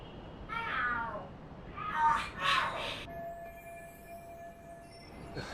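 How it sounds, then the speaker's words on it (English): Cats fighting and yowling in a video game: a few rising, strained feline screeches in quick succession, fairly faint and followed by a lingering tone. "Are there cats fighting?"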